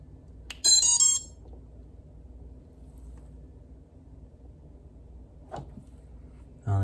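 A smoke detector gives a short, loud burst of sharp electronic beeping early on, then a fainter single beep several seconds later and another beep at the very end, with quiet room noise between.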